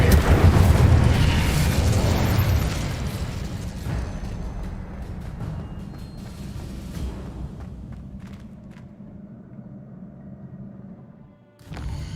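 Magical spell blasts from Hogwarts Legacy combat burst out as a loud boom at the start, then a long rumbling decay that fades over several seconds, with a fresh impact near the end.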